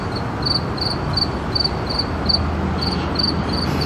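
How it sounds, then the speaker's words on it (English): Crickets chirp steadily outdoors beside a rail car restaurant in Las Vegas, a pulsing, evenly repeated trill of short high chirps over a constant hum of background noise, with no talking. "Say hello to the crickets."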